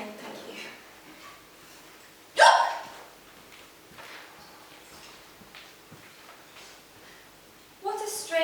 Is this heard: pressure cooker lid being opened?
no